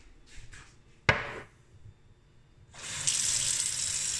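A tap is turned on and warm water begins running into a sink, a steady close rush that follows a brief clunk and a few soft handling sounds, with no talking.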